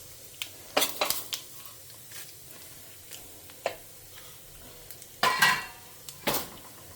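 Mustard and cumin seeds sputter in hot oil during a Tamil home-cooked tempering, giving scattered sharp pops and crackles with occasional utensil clinks, close and moderately loud.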